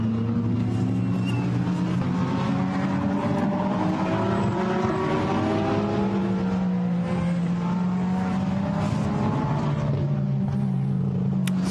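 Field of seventeen GT race cars on a sighting lap at the Barcelona circuit, the steady loud drone of many engines blending into sustained overlapping harmonics with gently shifting pitch, continuous and close throughout.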